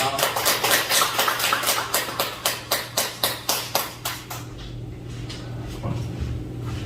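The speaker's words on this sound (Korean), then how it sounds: "목사님 나오실 때 감사의 박수로 환영하겠습니다" A church congregation clapping in rhythm to welcome a pastor at a revival service: steady, loud unison claps about three per second for four seconds, then stopping, leaving a low hum of room noise.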